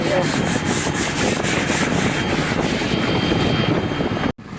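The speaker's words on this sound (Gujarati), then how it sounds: "આ રીતની બોટ ધોવાની." Brisk, rhythmic brush-scrubbing strokes rasp against a fishing boat's hard surface, repeating quickly and steadily over a continuous background noise.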